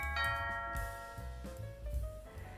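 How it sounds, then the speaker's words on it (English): A doorbell chimes a ding-dong melody, its ringing tones sustaining over low background rumble and music. "Just then, the doorbell rings."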